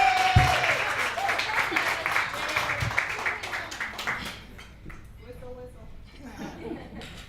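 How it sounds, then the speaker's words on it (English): Audience clapping in a small New York comedy club as a comedian walks to the stage, brisk applause with some chuckles that thins out and fades, with talking heard over it. "Keep clapping it up. Clapping it up."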